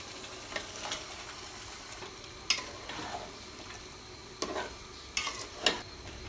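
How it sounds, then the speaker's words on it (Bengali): Meat being stirred and fried in spices in a pan for morog polao, a soft continuous sizzle with scattered sharp clinks and scrapes of a spoon against the pot, no talk. "মশলাটা ভাজা হয়ে গেলে আমি এর পর্যায়ে মাংসগুলোকে ছেড়ে দেব"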